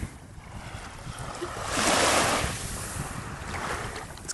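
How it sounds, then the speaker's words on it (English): Strong offshore wind at the shore of Muskallonge Lake, a steady broad roar of wind buffeting the microphone that swells to a peak midway and then eases, close and loud with no voices. "It's kind of windy out here."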